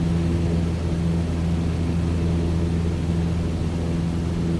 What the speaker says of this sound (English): make sure that her voice can be heard over the plane's engine